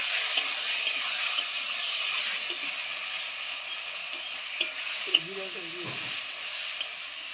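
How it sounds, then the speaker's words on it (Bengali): Potatoes fry with spices in a pan under a steady, close sizzle, while a utensil stirs and scrapes and a few sharp knocks stand out near the end. "এখন মশলা দিয়ে আলুটাকে খুব সুন্দর করে কষিয়ে নিচ্ছি আমি"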